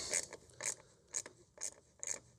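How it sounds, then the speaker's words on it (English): A ratchet snugs down a bolt on a sim-racing rig frame, giving five quiet, evenly spaced bursts of clicking close at hand, with no one talking. "I've got it with the ratchet, and I'm just going to tighten it until it gets nice and snug"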